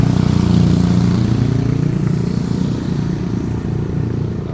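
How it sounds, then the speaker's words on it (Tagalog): A motorcycle engine runs steadily up close with a low, throbbing rumble that eases slightly in loudness over a few seconds, heard alone without talk. "Yan yung motor niya."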